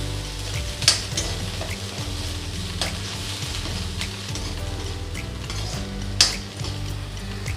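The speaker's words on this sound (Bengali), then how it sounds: "পেঁয়াজটা আমি ভালো করে ভেজে নেব।" Onion paste fries in a pan with a constant close sizzle, under scraping stirring and two sharp metallic clinks of a utensil against the pan.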